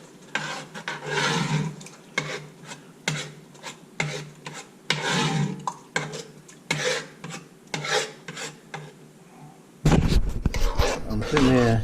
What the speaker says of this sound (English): I just stirred in those tomatoes, the soup and my jar of tomatoes.